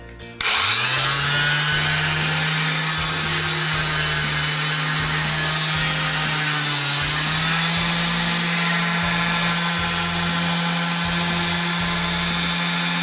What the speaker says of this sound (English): it's a cheap sander, but I think it'll do the job